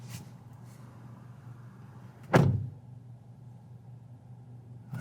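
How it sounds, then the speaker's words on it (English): The door of a 2022 Honda Civic Touring shuts once with a single solid thud, heard from inside the car at night against a quiet background hum. "Let's go ahead and shut the door now."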